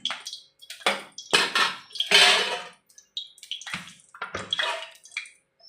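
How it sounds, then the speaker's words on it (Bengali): Water poured into a hot pan of oil for a doi katla fish curry, several loud hissing, sizzling bursts close by, rising and fading in separate splashes. "জল দিয়ে দিলাম"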